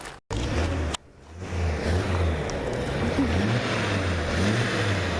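A 1955 GMC Napco 4x4 truck drives along a pasture, its engine a steady low drone that swells as it pulls away after a brief stop and a clunk, running continuously close by without talk.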